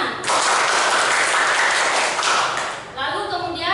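Classroom of students clapping for a classmate during a microteaching lesson on Pancasila, a dense burst of applause lasting about three seconds before fading, with voices coming through at the end.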